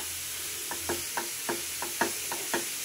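A utensil stirring grated carrot halwa in a pan with no oil or ghee, making soft rhythmic scraping strokes about every third of a second, close and moderately loud, with no voices.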